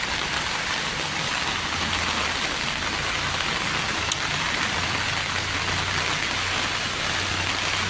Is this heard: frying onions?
no